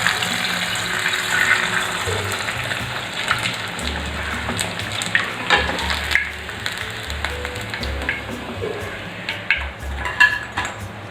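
Stuffed bananas (pazham nirachathu) frying in a pan, a steady close crackling sizzle with scattered clinks of a utensil against the pan and no talk.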